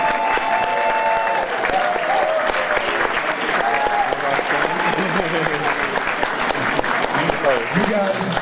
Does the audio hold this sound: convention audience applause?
yes